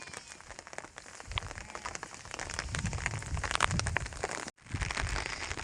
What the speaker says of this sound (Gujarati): કાલ રાતથી જ મિત્રો અત્યારે વરસાદે ફૂલ બાકાઝીકી બોલાવી છે